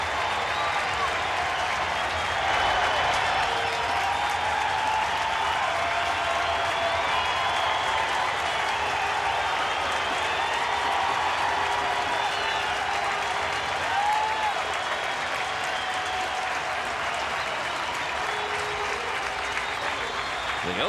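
A baseball stadium crowd of about 23,000 cheers and applauds continuously during a 1994 game, a sustained roaring wash of clapping and shouting with a broadcast announcer's voice occasionally talking over it.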